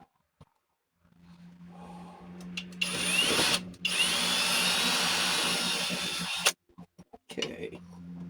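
A power drill runs steadily for several seconds at full speed, boring into a part during a handguard build, with a loud, even whine that cuts off abruptly, followed by a few short clicks and knocks.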